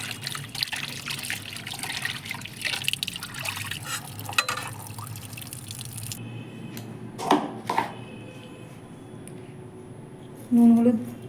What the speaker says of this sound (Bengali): জল দিয়ে ধুয়ে